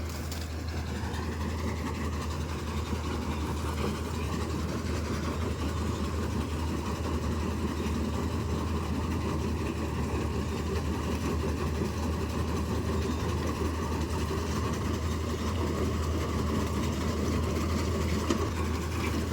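A John Deere 5405 4x4 tractor, used with a maize threshing machine, drones continuously with a deep, steady engine hum at constant loudness, with no talk over it.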